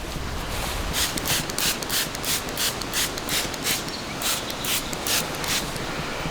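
Rhythmic rubbing strokes as scent coating is worked onto a branch at an outdoor mock scrape, close and steady with about a dozen even passes over a rough, noisy background.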